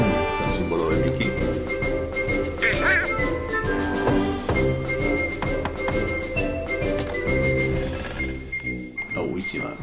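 Donald Duck quacking in the video game Kingdom Hearts, several nasal squawks scattered over game music and sound effects, with other voices and tones layered through the scene.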